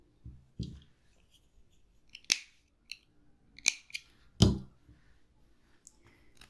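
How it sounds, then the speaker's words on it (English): Scissors snip crochet yarn on baby booties, a few sharp, close metallic clicks and snips spaced irregularly against a quiet background. "when you get to the last stitch, you chain one, tighten and cut your yarn"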